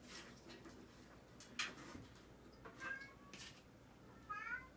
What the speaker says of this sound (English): Kitty Cat's crying.